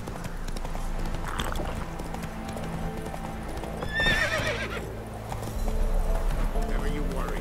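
Hooves of the horse Roach clip-clop steadily at a canter in The Witcher 3, with a short whinny midway, under game music and ambient sound, with talk in places.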